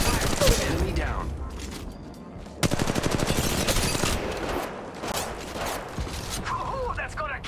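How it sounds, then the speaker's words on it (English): Rapid automatic gunfire in the mobile shooter game Apex Legends Mobile, dense bursts of sharp shots and a long sustained volley, loud and close, with a voice talking over it. "They're shooting at me. Opening fire on the enemy."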